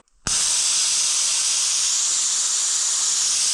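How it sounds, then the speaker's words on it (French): A vacuum leak-testing tool hisses steadily on a car's cooling system, a loud continuous airy rush that starts abruptly and holds without a break. "c'est un outil qui permet de faire de la dépression pour vérifier des fuites, notamment sur le système de refroidissement"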